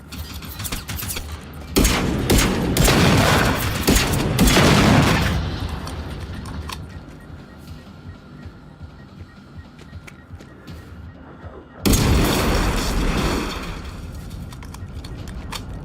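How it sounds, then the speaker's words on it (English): Bursts of gunfire and booming EMP explosions in the video game Generation Zero, loud rapid volleys around two to six seconds, a quieter stretch, then another sharp burst near twelve seconds. "Wait, does that count as an EMP explosion?"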